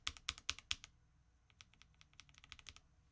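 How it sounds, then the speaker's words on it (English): Computer keyboard keys clack in a quick burst of four or five loud presses, followed by a softer, faster run of lighter taps, all close up with no talking. "It also depends on where in the keyboard you're pressing and how hard too."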